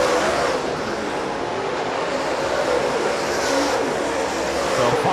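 Dirt-track race cars in a USMTS feature at Rapid Speedway roar steadily as a dense, continuous engine drone, loud and sustained with no letup, the field running laps together under faint commentary.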